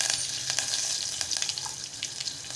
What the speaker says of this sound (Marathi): मोहरी घालत आहे जिरं घालत आहे हिंग घालत आहे कढीपत्त्याची पाने घालत आहे